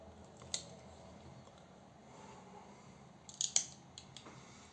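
Parts are cut from a carbon LCG chassis on an RC car, giving a quiet snip near the start and then a quick cluster of sharp crisp snips close by, heard alone over a faint background.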